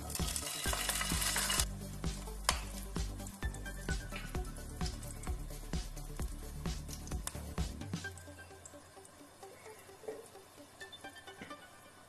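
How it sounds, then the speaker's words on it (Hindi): Green chillies drop into a hot dal tempering already holding red chillies, and a loud sizzle and crackle with stirring scrapes settles into a quieter steady fry. "अब इसमें हरी मिर्ची डाल देंगे।"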